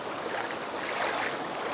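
Shallow, clear water runs through a small stream in a Konkan village, a soft continuous wash and gurgle heard close by, steady and fairly quiet with no voices.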